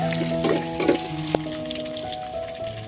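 Chopped onions frying in a pan for a chicken curry, a steady close sizzle with a few louder scraping stirs near the start and a sharp clink of the spoon partway through.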